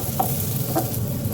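Onions frying in a little oil in a pan, heard as a steady soft sizzle with a couple of brief stirring scrapes, close and alone with no voices.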